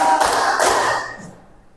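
A classroom of students clapping together in a rhythmic pattern, a few sharp, loud group claps close by that ring out and fade.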